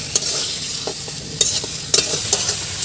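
Fish roe and onions fry in a pan, a steady close sizzle broken by several sharp scraping clicks from stirring, with no talking.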